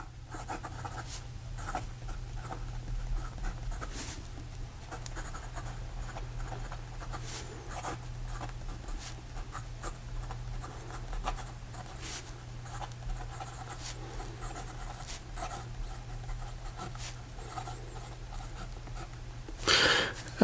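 A Montegrappa American Dream fountain pen with a steel nib writing on paper, faint scratchy strokes and small ticks over a low steady hum, with a brief louder rustle near the end.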